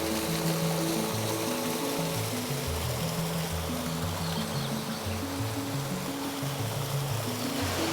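Constant roar of a waterfall in the Brazilian countryside fills the background while a melodic tune plays over it.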